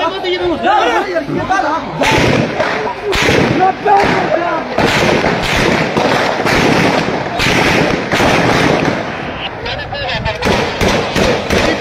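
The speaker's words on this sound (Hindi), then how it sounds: "शदीद किस्म की फायरिंग हो रही है" Heavy gunfire aimed at a vehicle at a city square in Gilgit, loud rapid bursts of repeated shots cracking through a crowd's chatter while someone talks excitedly over them.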